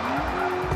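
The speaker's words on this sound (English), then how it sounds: "They all learn how to do a handbrake turn." Car doing a handbrake turn, a brief loud tire squeal rising in pitch over engine noise, lasting under a second.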